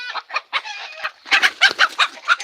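Chickens cluck in a rapid series of short, bright bursts, close by in a village, growing louder and more agitated toward the end as an escaped hen is caught.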